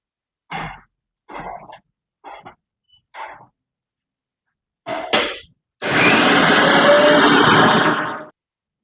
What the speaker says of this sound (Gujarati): પૌવા લઈ લીધા ચાળી મિક્સરમાં દળી દેવાના